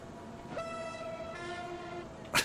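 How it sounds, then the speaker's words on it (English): A train whistle in the Transport Fever video game sounds as one long, steady, slightly harsh horn tone. It is moderately loud with a brief change partway through, and ends with a short burst of noise. "That's not what train whistles should sound like."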